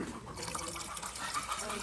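Thinner poured into varnish being mixed for coating a hut makes a steady, soft liquid trickle and splash that runs continuously for a couple of seconds, fairly quiet and close.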